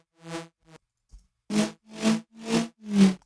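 Layered electronic bass line in a dance track, a few short tonal hits followed by four strong, evenly spaced pulses that swell and fade, loud and alone with no voice.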